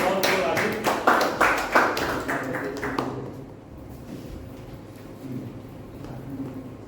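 A Toastmasters club meeting audience giving a short burst of applause, clapping loud for about three seconds before fading into quiet room noise.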